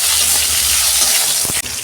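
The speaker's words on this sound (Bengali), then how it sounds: "ফোড়নটা ভাজা হয়ে গেছে, একটা টমেটো দিয়ে দিচ্ছি" Chopped tomato goes into hot mustard oil in a kadai after dried red chilli and five-spice tempering. A close, steady sizzle is followed by a short clatter near the end.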